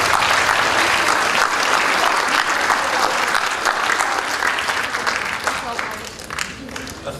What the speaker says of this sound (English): please give a big round of applause to all your friends